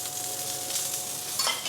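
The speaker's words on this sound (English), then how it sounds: "So the garlic and cavolo nero are in the pan." Garlic and cavolo nero frying in a pan give a steady, bright sizzle throughout, close and fairly loud, with a brief stirring scrape near the end.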